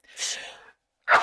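One sharp sneeze, close and fairly loud, with a breathy intake before it and the burst after a brief silence.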